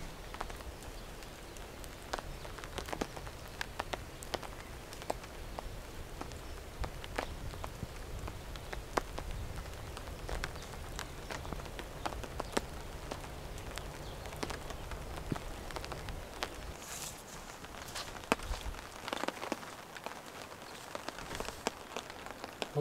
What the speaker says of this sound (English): it's just spitting, sort of drizzling rain, but pretty consistent